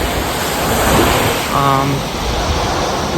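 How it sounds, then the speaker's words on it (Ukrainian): Sea waves wash steadily onto a beach in Benidorm on an overcast day, a continuous broad roar of surf close to the microphone with some wind buffeting. "вже нарешті в Бенідормі і прийшли на пляж"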